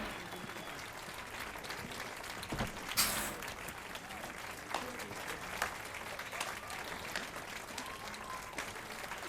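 Crowd applause in The Witcher 3, a steady wash of clapping hands that carries on for several seconds at moderate loudness, with a few sharper bursts standing out along the way.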